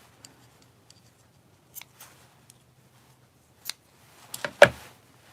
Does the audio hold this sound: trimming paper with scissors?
yes